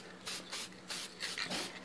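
Several short, light hissing bursts of spray finish onto a small carved wooden ribbon sign, coming in quick uneven pulses close by, with no talking.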